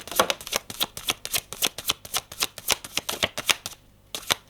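Tarot cards are shuffled and drawn in a rapid run of crisp riffling flicks, close and clear, with a short pause before a final few snaps.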